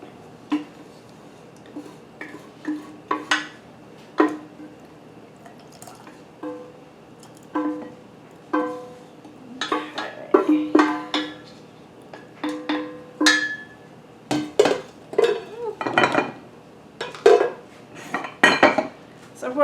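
A utensil scrapes sweet pickle relish out of a cooking pot, giving irregular metallic clinks and scrapes that come in short bursts and grow busier toward the end, close and clear.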